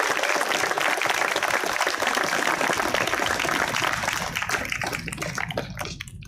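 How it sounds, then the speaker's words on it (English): Audience applause at an eighth grade graduation: loud, dense clapping that holds steady, then thins out and fades toward the end. "I think that deserves a round of applause."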